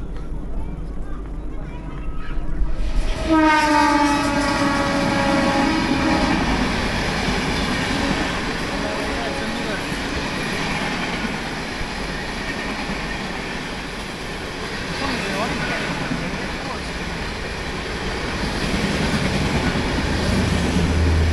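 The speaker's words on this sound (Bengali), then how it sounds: "শাহজাহানপুরে আমাদের সেরা একটা ট্রেন গেল" A train rumbles past loudly at close range through a station at Shahjahanpur, a brief horn or squeal at the start giving way to a long steady roar of wheels on rails, with voices underneath.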